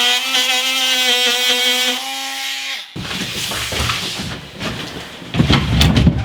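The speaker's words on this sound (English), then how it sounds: "I got the oscillating saw right there." An oscillating saw cutting a hole in the ceiling of a school bus being converted into a home, first a loud steady whine, then breaking into rough, gritty buzzing and scraping bursts toward the end.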